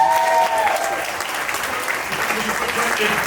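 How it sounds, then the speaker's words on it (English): Steady, dense applause from a conference audience fills the whole stretch at an even level, with a faint tone fading out near the start. "So give him a round of applause one more time"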